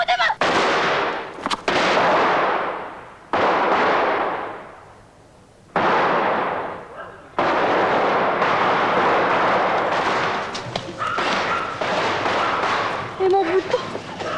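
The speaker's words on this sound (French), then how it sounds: "Vous avez pas compris que c'est dangereux les pétards, hein?" Firecrackers go off in a 1984 French television episode, a series of loud sharp bursts with decaying crackling tails, repeated several times, mixed with voices.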